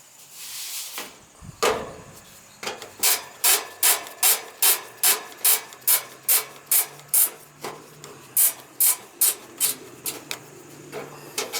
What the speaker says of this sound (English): Strip out the screws